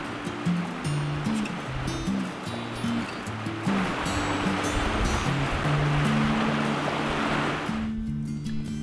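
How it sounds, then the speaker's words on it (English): An overflowing river floods a field and runs over a bridge, a steady broadband rush of fast-moving water that stays loud and continuous before suddenly cutting off near the end. "Our little river has been overflowing with water."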